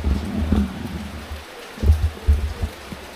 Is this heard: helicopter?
no